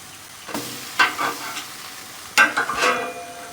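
Bourbon and brown sugar French toast cooks on a grill, with a steady soft sizzle and two brief louder bursts of frying as slices are moved or turned, close up and without talk.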